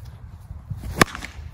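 A composite baseball bat strikes a ball once, a sharp crisp crack standing out clearly above low outdoor rumble during bat break-in hitting.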